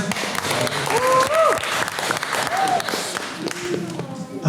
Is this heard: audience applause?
yes